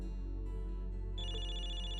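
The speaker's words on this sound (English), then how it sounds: "I can hear someone's phone ringing from the back." In the game Zenless Zone Zero, a phone rings somewhere behind a cinema audience, a thin electronic ringtone that comes in over a constant low hum and ambient murmur.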